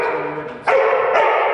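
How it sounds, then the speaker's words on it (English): A Belgian Malinois, a two-year-old fire department search and rescue dog, barks and yips excitedly, with a louder burst of barking after a short lead-in, close and continuous. "the swearing-in ceremony for the department's new search and rescue dog"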